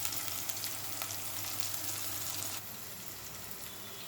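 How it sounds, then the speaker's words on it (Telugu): Okra and tomato sizzle steadily in a hot pan, a continuous dense frying hiss with small crackles that eases slightly partway through. "బెండకాయ, టమాటా వేగింది"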